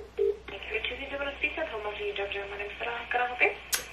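A phone keypad sends a rapid run of dialing tones for a pizza delivery number, the beeps steady and close, ending in a short bright click.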